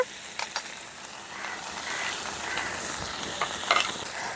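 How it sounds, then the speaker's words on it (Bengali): Vegetables for shukto, fried covered on a low flame, now stirred after ginger paste is added, giving a soft, steady sizzle with a few light spatula scrapes, close but fairly quiet. "সবজিগুলোকে লো ফ্লেমে ঢাকা দিয়ে ভেজে নিয়েছি এখন আমি দিয়ে দিচ্ছি আদা বাটা"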